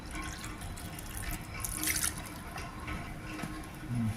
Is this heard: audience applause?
no